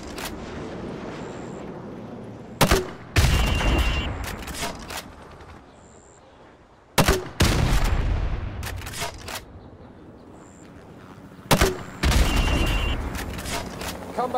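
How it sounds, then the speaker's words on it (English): Grenade launcher fired three times in Call of Duty: Modern Warfare Remastered, each shot a sharp loud thump followed by a rolling blast and debris, spaced several seconds apart over a steady background of ambient battle noise. "now pop a grenade into windows 5, 6, and 7"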